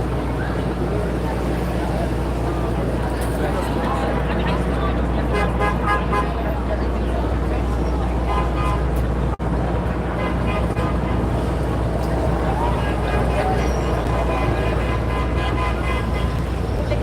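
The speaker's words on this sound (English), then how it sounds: "All the traffic's trying to get through at this point." Busy Times Square traffic during a street protest, with buses and cars honking amid a dense roar of engines and crowd noise, voices talking throughout.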